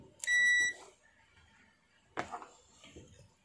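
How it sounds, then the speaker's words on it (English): Multimeter set to continuity on a 12 volt DC relay gives a short, clear electronic beep near the start, followed by a faint click and some quiet handling sounds. "Set multimeter to continuity."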